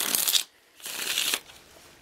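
Tarot cards are shuffled up close in two quick riffling bursts separated by a brief pause, crisp and papery with a softer tail afterward.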